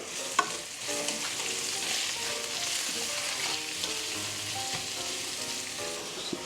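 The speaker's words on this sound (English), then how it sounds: "We're just going to saute them down a little bit." Onions sauté with half a teaspoon of salt in a pan, giving a steady, close sizzle with occasional stirring scrapes and small clicks throughout and no talking.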